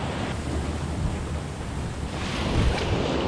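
Ocean surf breaking along a rocky jetty on the New Jersey coast, a steady loud wash of white water with gusty wind noise across the microphone and a swelling crash near the end.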